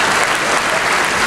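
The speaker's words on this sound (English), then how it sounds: "Students, give them a huge round of applause." A graduation-day audience at a junior college applauds the teachers: dense, loud, steady clapping filling the hall throughout, with a faint murmur of voices underneath.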